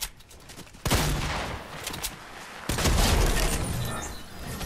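Video game gunfire comes in loud, close bursts of rapid shots, two sharp onsets followed by sustained clattering fire, with no speech.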